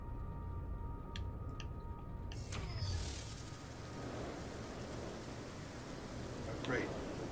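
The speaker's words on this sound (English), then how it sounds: "Oh, great, the wet rain. A hot rain." Rain falling in the video game No Man's Sky, heard as a steady hiss under faint game tones, with a brief rumble near the start.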